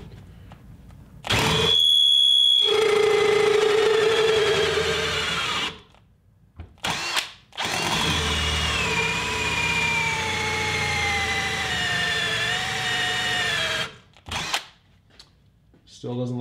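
A Milwaukee cordless drill drives a spin swaging tool in two long, loud whirring runs whose pitch sags under load. They are separated by short bursts and pauses, and a voice can be heard briefly.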